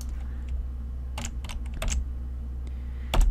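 Someone types code on a computer keyboard in short bursts of close, light key clicks, separated by brief pauses and ending on a louder keystroke, over a low steady hum.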